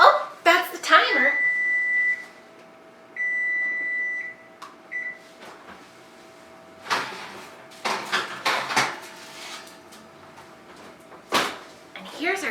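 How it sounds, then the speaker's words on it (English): A kitchen timer beeps in a home kitchen during breakfast baking, a sustained electronic tone repeating a few times early on, followed by clattering of a door, dishes and trays while someone talks. "Oh, that's the timer."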